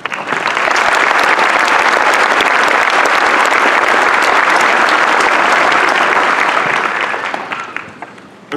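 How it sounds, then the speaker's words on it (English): A large university graduation ceremony audience applauds loudly and steadily for several seconds before the clapping thins out and fades. "Give yourself a round of applause."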